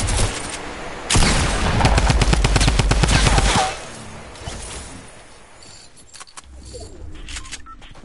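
Rapid video-game gunfire rattles in a dense, loud automatic burst lasting a few seconds, then gives way to quieter scattered shots and background game noise.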